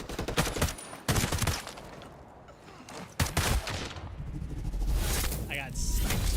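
Gunfire bursts from a multiplayer shooter video game, sharp broadband cracks and volleys near the start and again around the three-second mark, with a continuous rumble of game noise in between.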